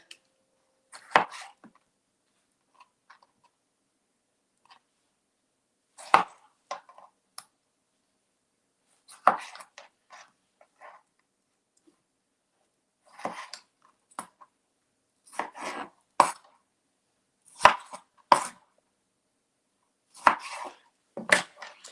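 Sharp, irregular knocks of a knife chopping salsa ingredients on a board, coming in scattered bursts with quiet gaps between them.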